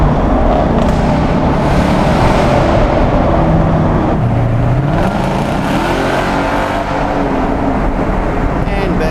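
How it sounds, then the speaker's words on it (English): A supercharged 670 hp 2017 Ford Mustang accelerates hard through a tunnel, its engine a loud, continuous roar that echoes off the walls and climbs and falls in pitch. "that's us making all that noise,"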